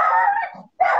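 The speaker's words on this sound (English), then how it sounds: "he sounds like a real big nasty dog. He is a chihuahua." A chihuahua gives two sharp, close yaps with a short gap between them, loud and alone with no talk.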